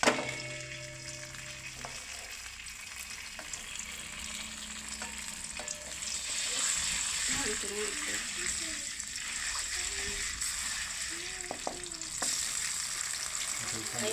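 Ginger garlic paste frying in hot oil for an egg curry, a steady sizzle that swells midway with bubbling and spatter, close, with faint voices and clatter now and then in the background.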